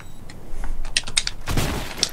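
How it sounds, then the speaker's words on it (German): A burst of rapid, sharp gunshot pops mixed with clicking from a Fortnite firefight, with a louder blast in the middle. "Schüsse."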